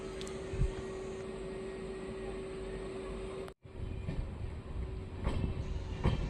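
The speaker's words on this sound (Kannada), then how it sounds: "ಇದು ವಾಸ್ಕೋಡಿಗಾಮೆಯಿಂದ ಯಶವಂತಪುರಕ್ಕೆ ಹೋಗೋ ಎಕ್ಸ್ಪ್ರೆಸ್ಸು ಪ್ಲ್ಯಾಟ್ಫಾರ್ಮ್ ನಂಬರ್ 1ಕ್ಕೆ ತಿಪ್ಟೂರಿಗೆ ಎಂಟ್ರಿ ಆಗಿದೆ." A Vasco da Gama to Yesvantpur express rolls into platform 1 at Tiptur station, a steady loud rumble of wagons and wheels with a few clanks, fairly near and continuous, with no talk.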